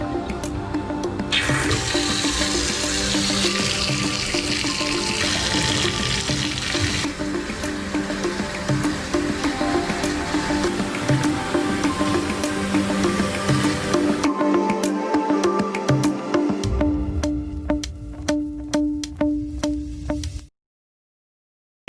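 Water running into a bathtub, a loud continuous rushing splash that eases toward the end, followed by a few drips before it stops.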